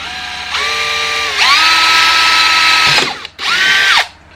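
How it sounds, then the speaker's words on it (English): A handheld power drill bores pilot holes for screws while fitting a USB port into a motorcycle tour pak, with two whining bursts that spin up, hold steady and stop, close and loud, with no talk. "drill the pilot holes for the screws."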